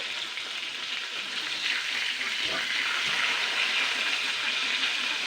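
A large tilapia fish head deep-frying in hot oil, a loud, dense, unbroken crackling sizzle heard up close for the whole stretch, with no talking over it.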